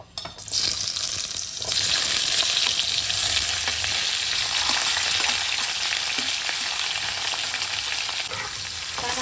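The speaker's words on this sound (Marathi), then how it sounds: "त्यामध्ये मी ही रताळ्याचे धुतलेले काप टाकतेय" Washed sweet potato slices sizzle steadily in hot ghee in a pan, a loud, close, continuous frying hiss after a brief clatter as they go in.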